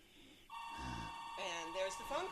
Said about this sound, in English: And there's the phone call.